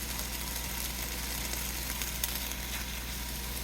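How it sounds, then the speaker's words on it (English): Butter sizzling in a hot pan, a steady, dense hiss and crackle that stays constant at moderate loudness with no talking. "Get a good sizzle and check this out."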